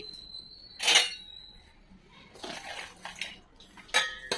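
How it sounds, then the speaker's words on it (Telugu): Jaggery is mixed into milk in a metal vessel with a few distinct clinks and scrapes of a spoon against the sides, some ringing briefly, close and moderately quiet, with no talking. "ఇప్పుడు ఈ బెల్లంని ఈ మిల్క్లో వేసుకొని కలపాలి."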